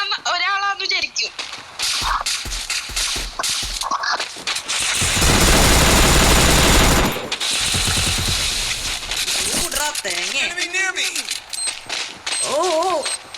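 Gunfire in the Free Fire video game bursts out in a loud, dense volley of rapid shots lasting a couple of seconds, surrounded by people talking and game effects.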